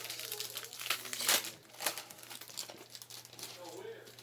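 Stuck-together foil Ghostbusters trading cards from a Cryptozoic box are peeled apart, giving close crinkling and tearing crackles in bursts, with a voice speaking underneath.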